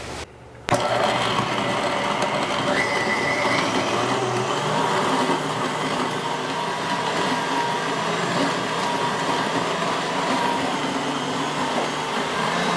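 A home grain mill grinding whole wheat kicks in after a brief quiet start, then holds a loud, steady whirring drone with a gritty, broadband roar that runs unbroken to the end.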